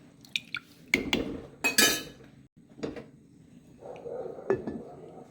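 A metal lid clinks and settles onto a pot of Jaffna-style cuttlefish curry, a few sharp close clanks of metal and cookware followed by a softer rattle.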